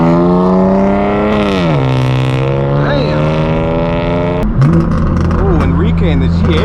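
A BMW G80 M3 exhaust drones with a loud, steady engine tone that dips and settles, then shifts abruptly to a new pitch as it pulls away, other car noise around and a voice talking over it.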